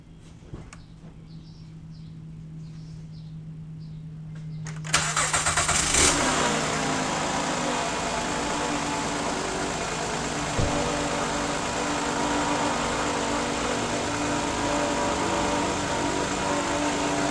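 A car engine that makes a rubbing noise cranks after a quiet lead-in, catches with a sudden loud burst and settles into a steady rumbling idle, with a small knock partway through.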